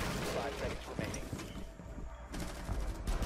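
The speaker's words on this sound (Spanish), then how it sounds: "le di como 4 tiros a la Twitch y no moría" Rapid gunfire bursts in the tactical shooter game Rainbow Six Siege, crackling in quick clusters under loud excited talk from players.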